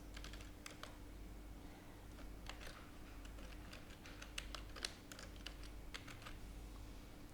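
Quick keyboard typing as an email address is entered, a string of light, irregular key clicks up close and fairly quiet, with no talking.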